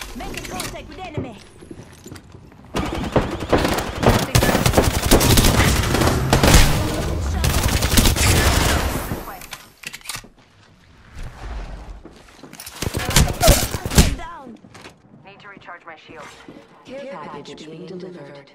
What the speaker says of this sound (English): Making contact with enemy. Reloading. Opening fire.